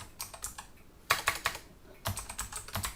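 Keys clatter on a computer keyboard as code is typed, quiet and close, in uneven bursts with a brief pause and then a faster run of taps.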